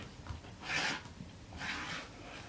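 Heavy canvas duck cloth fabric being cut for a banner, two soft rasping scissor strokes close by, each swelling and fading over about a third of a second, with quiet room noise between.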